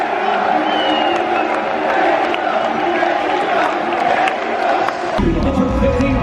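A crowd at an All Elite Wrestling event during the 2019 CEO Fighting Game Championships cheers for wrestler Jabali, a dense, sustained roar of many voices with whoops, loud and continuous throughout.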